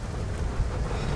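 Heavy rain and thunder sweep over a vehicle on the road, a dense continuous wash of loud rain with a low rumbling undertone, brief and without pause.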